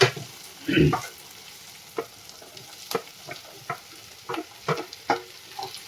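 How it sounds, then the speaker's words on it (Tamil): Guava being added to onion and tomato softening in a pan for guava chutney, giving intermittent stirring clicks and light sizzle, with a louder clatter near the start, close and alone without talk. "இப்போ தக்காளி வந்து வெங்காயம் வந்து ஓரளவுக்கு வதங்கிடுச்சு. இப்போ நம்ம கொய்யாக்காய் சேர்த்துக்கலாம்."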